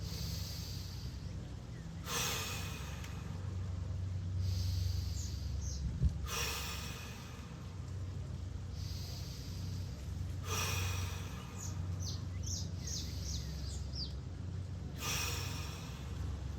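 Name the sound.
five big deep diaphragmatic breaths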